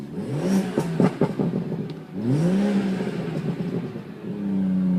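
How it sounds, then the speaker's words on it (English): A 2016 BMW 340i M Sport with a petrol straight-six engine starts up: starter whirr and catch, a short revving burst, a brief pause, then a second rise that settles into a smooth, steady idle heard close up. "Just going to start the car up for you."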